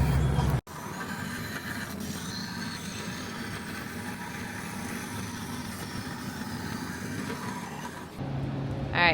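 A vehicle on a test drive, a steady low engine and road drone held at moderate level with no voices, ending in a louder shift near the end.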